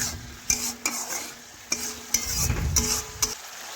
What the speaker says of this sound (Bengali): টমেটো একটু গলিয়ে নেওয়া পর্যন্ত একটু ভেজে নিচ্ছি।